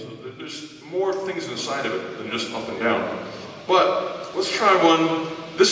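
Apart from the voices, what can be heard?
No everyday noise stands out behind the speech.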